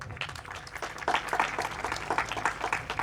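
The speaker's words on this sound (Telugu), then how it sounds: "ఒక్కసారి మీ చేతులతో గట్టిగా చప్పట్లు కొట్టండి" A church congregation claps steadily for a few seconds, a dense patter of many hands with no voices standing out.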